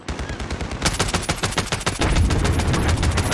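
A mounted gun fires in the video game Call of Duty Warzone, delivering dense automatic bursts that grow heavier and louder partway through, with continuous rapid shots and no voices.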